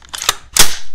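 A Rave 140 drop-in rifle trigger gives two sharp, close mechanical clicks as it is worked and resets, each short and crisp, the second louder.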